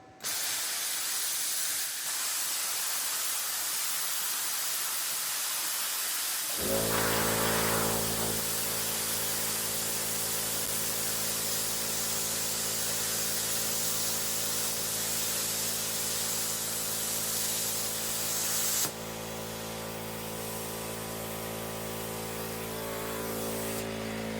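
Tooliom 50 amp plasma cutter cutting half-inch metal: after a few seconds of quiet hum, a loud steady hissing, buzzing arc starts and runs continuously for about twelve seconds, then drops to a softer hiss as the cut ends.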